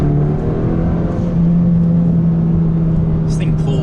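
A new Honda Civic Si accelerates, its engine giving a steady, loud droning hum from inside the cabin that holds and rises slightly as the car pulls.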